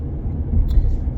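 A car's interior road rumble, a steady low drone of driving on pavement, brief and fairly loud with no distinct events.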